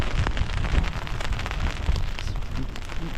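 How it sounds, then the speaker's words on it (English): Steady rain falls outdoors on a windy hillside wild camp in Wiltshire, with gusts buffeting close to the microphone and a dense, continuous patter throughout, no voices. "quick update, it's currently raining"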